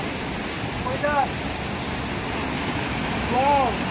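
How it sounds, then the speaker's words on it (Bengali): A waterfall in the Rongo river valley of Kalimpong gives off a constant, even rushing roar, with a couple of brief voices heard over it. "এত সুন্দর ঝর্ণা"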